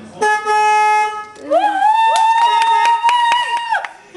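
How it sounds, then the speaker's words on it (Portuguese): A car horn sounds in a long steady blast, then a series of shorter honks and toots in an uneven rhythm, loud and close. "Entra, dá uma buzinadinha, vê como funciona."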